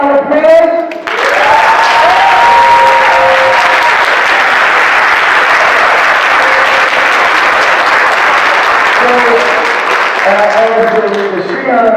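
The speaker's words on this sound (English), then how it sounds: "Let's give him a round of applause." Audience applause at a fathers' conference breaks out after a brief spoken line and holds steady for about ten seconds, then fades as a voice returns.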